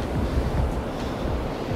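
Sea surf breaking on an Italian shore near Venice, a steady, loud wash of rough waves with wind buffeting the microphone throughout, no voices.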